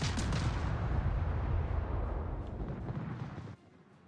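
Warship guns firing in World of Warships, a loud, heavy booming barrage that rolls on as a dense rumble and then fades away, with no talking.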